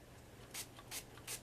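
Three short, quiet hisses of orange spray paint from an aerosol can onto a Halloween pumpkin in a steady rhythm, faint against a low background hum.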